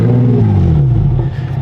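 A Lotus sports car with a loud straight-pipe exhaust fires up and settles into a deep, rumbling idle, heard close and alone.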